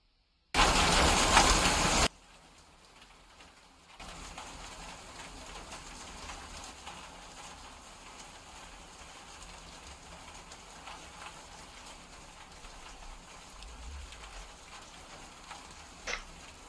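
A rain ambience track streamed online, sounding like hail: dense, steady patter with a short loud burst at the start, followed by a softer, even rainfall hiss that continues to the end, with a few faint ticks.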